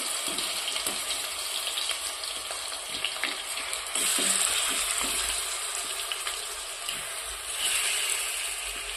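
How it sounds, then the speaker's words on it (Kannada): Chicken frying in oil in a pan for a dhaba-style curry, a loud, steady close sizzle and crackle that swells at times, with occasional stirring and no talk. "ಇನ್ನೊಂದು ಸ್ವಲ್ಪ ಎಣ್ಣೆ ಹಾಕ್ಕೊಂಡು ಈ ಚಿಕನ್ ಫ್ರೈ ಮಾಡ್ಕೊಂಡು"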